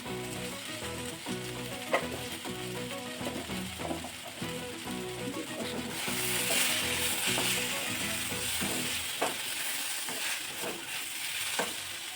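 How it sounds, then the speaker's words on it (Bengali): Vegetables cooked down with spices such as ground coriander sizzle steadily in a pan, a close frying hiss broken by frequent scraping and knocking from stirring, growing a little louder partway through, with no talk. "সবজিটা তো কষানো হয়ে গেছে"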